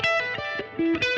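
Distorted electric guitar plays a quick pentatonic lick in fourths, about six plucked notes in a rapid, slightly uneven rhythm with sustained overdriven tone, close and clear with no talking.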